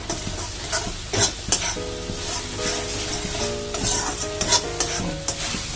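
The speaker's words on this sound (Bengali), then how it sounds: "সুন্দর করে এটাকে আমাদের ভেজে নিতে হবে" Spices with turmeric and Kashmiri chili fry in a pan as a steady loud sizzle, with repeated close scraping stirs and spatula clinks over a constant hiss.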